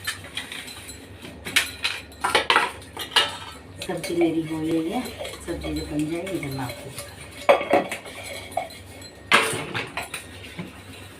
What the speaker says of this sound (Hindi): ये देख लो भाई मैं बर्तन ही साफ़ कर रही हूँ